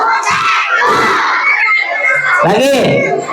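A group of children at a Maulid Nabi storytelling event does a three-clap chant. They shout loudly together in close, excited bursts, with a raised chorus near the end.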